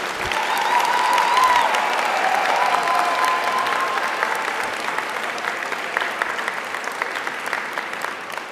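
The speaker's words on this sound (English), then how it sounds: "let's give a round of applause to each of our inductees" Applause from an audience honoring inductees at a university honor society induction ceremony, dense steady clapping from many hands that starts full and slowly thins and softens toward the end.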